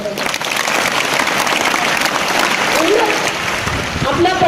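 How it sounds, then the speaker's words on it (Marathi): A school audience at an Independence Day event applauds loudly and steadily for a soldier's family, a dense sustained wash of clapping with faint crowd murmur beneath. "याच्यासाठी आपण जोरात टाळ्या वाजवल्या पाहिजे"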